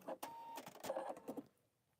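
Pfaff Creative Vision embroidery machine whirring briefly as its hoop moves back to center, a short burst of mechanical motor and stepping sounds that fades to near silence after about a second and a half.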